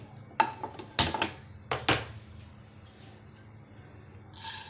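Sugar going into a frying pan for caramel, heard as a few sharp metallic clanks and scrapes of utensil on pan, loud and close, separated by quiet gaps, with a last rustling burst at the end.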